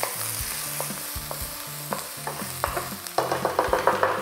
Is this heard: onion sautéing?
yes